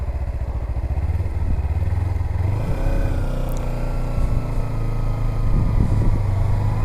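Kawasaki Z300 motorcycle being ridden, its engine droning steadily and loudly with slight shifts in pitch as it revs. Road and wind noise run underneath, with no talking.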